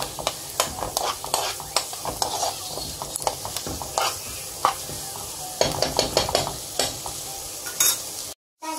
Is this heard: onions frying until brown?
yes